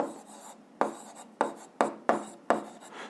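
A pen scratches across paper in close, rhythmic strokes while the law of conservation of energy is written out in an eighth-grade physics lesson, with about six distinct stroke onsets and no speech.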